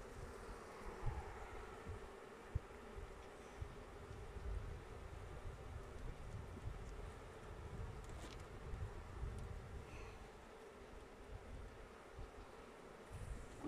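Honeybees buzz steadily throughout an October beehive inspection, a dense, continuous hum at moderate level with faint wind noise and no talking.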